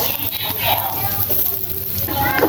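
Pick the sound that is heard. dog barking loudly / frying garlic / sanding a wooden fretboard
frying garlic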